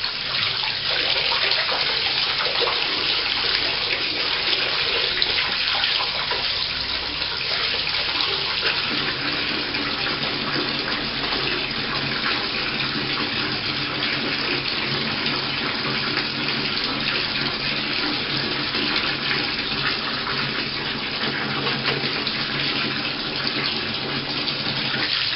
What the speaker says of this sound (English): more a bit of the hot water tap, so that you get more hot water.